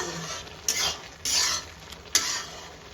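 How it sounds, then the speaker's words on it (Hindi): Sugar going into carrot halwa in a pressure cooker pot, heard as three short scraping, rustling bursts of a spoon against the metal, fairly close, with no one talking. "तो मैं अब इसमें चीनी डालूंगी।"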